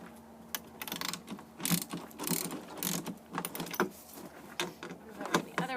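Close, quiet ratcheting clicks as a bolt is cranked by hand into the wooden trunk base to mount a caster, in irregular bursts of rapid clicks.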